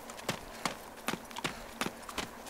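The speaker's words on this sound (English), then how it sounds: "even my footsteps are pretty loud, aren't they?" Footsteps of a player character in the video game ARMA 2 DayZ Mod, crunching in an even walking rhythm of about seven loud, close steps, heard alone.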